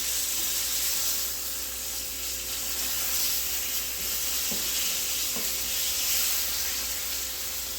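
Cajun creamy chicken sears in a pan with a steady, close sizzle and hiss, broken by a couple of soft stirring or scraping touches near the middle, with no talk.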